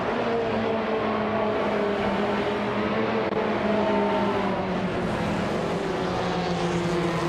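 Race cars including a 2019 Ferrari 488 GT4 at Lime Rock Park in a racing video game: a steady, dense engine drone with shifting whining tones throughout, continuous and fairly loud, with no talk.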